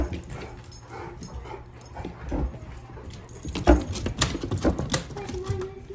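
A 4.5-month-old Irish Setter puppy whimpers and yips softly indoors near a busy dog door, with faint jangling and rustling around it.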